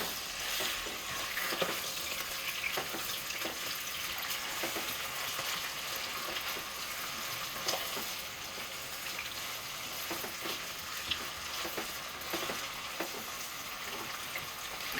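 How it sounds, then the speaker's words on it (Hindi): Chicken sizzles and crackles in a hot pan, a steady hiss with scattered pops continuing throughout, close by and no one speaking. "चिकन का कलर चेंज हो जाने तक आपने इसको फ्राई करना है।"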